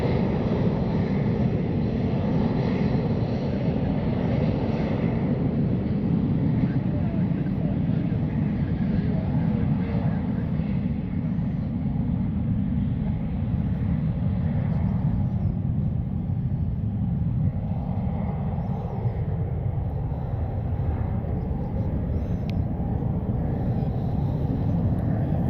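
A Delta Connection Embraer E175 jet lands at Cleveland Hopkins airport, heard as a steady, distant low engine roar and rumble that holds for the whole stretch, with a slight shift in tone near the end.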